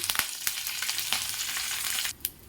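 Curry leaves drop into hot tempering oil for lemon rice, spitting and crackling with dense, bright sizzle close up. A final sharp pop follows a brief dip near the end, and no one speaks.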